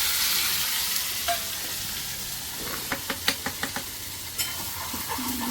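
Onions and tomatoes sautéing in a kadhai for dal tadka give a dense hissing sizzle, then a quick run of sharp spoon knocks and stirring clatter midway before the sizzle settles again.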